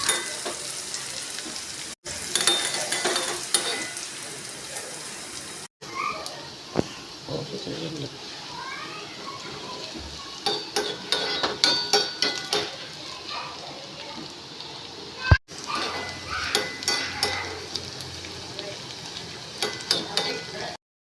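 Shallots, two dried red chillies and a sprig of curry leaves crackling in hot oil in a pan, a steady close sizzle with scattered pops and brief gaps where lids or utensils interrupt, no talking.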